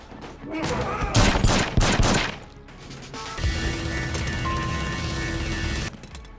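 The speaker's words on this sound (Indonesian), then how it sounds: "Zero yang awalnya sempat kewalahan akhirnya berhasil mengembalikan keadaan dengan menembak kepala Dex" Rapid bursts of film gunfire ring out in an action scene, with a clustered volley of loud sharp shots in the first half followed by a sustained ringing, crashing tail.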